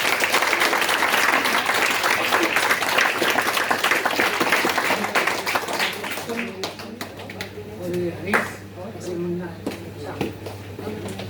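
Loud, sustained applause from an audience at a bhajan singing competition, clapping steadily before fading out as a few voices talk over the tail end.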